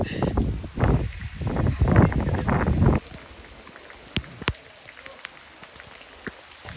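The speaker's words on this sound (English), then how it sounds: "How it's raining vertically." Heavy rain pours straight down at the Pyramid of Sahure in Abusir, a loud, dense hiss of drops hitting the ground and stone, easing after a few seconds into a steadier patter with scattered sharp drips close by.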